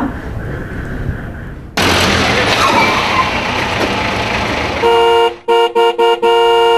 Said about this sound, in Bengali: বাবা, গাড়ির শব্দ, মনে হয় ভাইয়া চলে এসেছে।